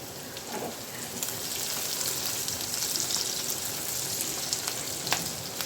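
Ingredients fry with a green chili in a pan, a steady close sizzle like rain on a surface, with faint scattered clicks and pops throughout.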